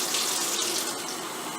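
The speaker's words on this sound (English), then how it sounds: "you turn your water on, fill up your measuring cup" A kitchen water tap runs steadily into a measuring cup, a close, bright, continuous splashing stream with no talk.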